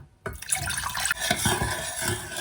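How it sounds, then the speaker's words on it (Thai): Liquid pours continuously into a pot as sugar, salt, vinegar and water go in for a garlic pickling brine, a close, steady splashing gush after a brief quiet start. "เทน้ำตาลทรายใส่หม้อค่ะ เกลือค่ะ น้ำส้มสายชูค่ะ น้ำเปล่าค่ะ"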